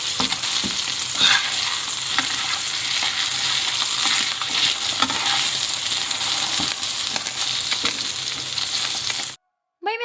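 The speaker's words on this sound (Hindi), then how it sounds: "इसको यूं प्रेस करके दबा दबा के जो है ना तलना पड़ता है" Palla fish frying in a pan while being pressed down, giving a steady, dense, close sizzle with faint scraping that runs almost the whole clip and then cuts off abruptly near the end.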